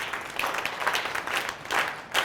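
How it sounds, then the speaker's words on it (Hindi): Audience applause at a girls' safety workshop session, a steady spread of clapping lasting a couple of seconds with swells in intensity, moderately close and without speech over it. "इस बिटिया के लिए जोरदार तालियां हो सकती है क्या?"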